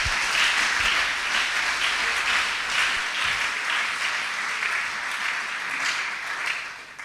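A church congregation applauds together after the reading, a dense, steady wash of clapping that fills the room for several seconds and thins slightly near the end, with no talk over it.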